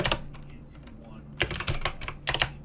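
Fingers typing C# code on a computer keyboard, a few quick bursts of close, crisp key clicks separated by short pauses, with a faint voice in the background.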